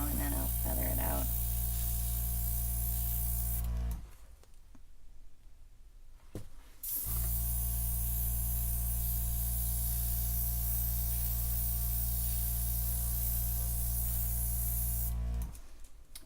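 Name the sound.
airbrush blowing air over acrylic paint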